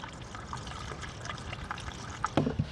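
Coolant is poured from a bottle into a car engine, a steady soft liquid trickle and glug with a few sharper splashes near the end, fairly close and without talk.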